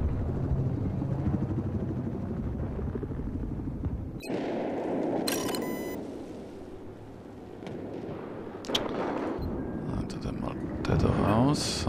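A helicopter in Battlefield 4 rumbles and whirs through a busy battlefield mix, with gunfire bursts, explosions and players talking over the noise.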